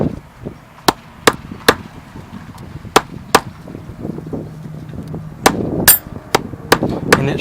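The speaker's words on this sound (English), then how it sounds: "So I'm gonna hammer it." Sharp, loud hammer blows pound sinew on a hard surface, landing in irregular bursts with short pauses between groups of hits.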